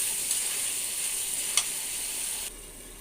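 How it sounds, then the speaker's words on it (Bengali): Tomato and potato pieces fry with spices in a pan, giving a steady, close sizzle with a couple of brief clicks from the pan along the way, the hiss dropping slightly near the end. "এখন টমেটো আর আলুটা আমি দিয়ে দেবো। এটা দিয়েও আরও 2 মিনিট আমি কষিয়ে নেব।"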